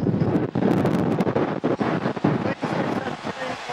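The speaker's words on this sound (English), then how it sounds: "You could just hear how windy it was." Strong wind buffets a stadium microphone at an LSU versus Texas A&M college football game, loud rumbling gusts with brief dips, no clear speech.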